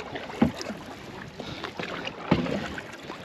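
Wind gusting over a large bay of Lac Jean-Péré in La Vérendrye wildlife reserve during a canoe-camping trip, buffeting rumble with a couple of sharp paddle or hull knocks, no talk.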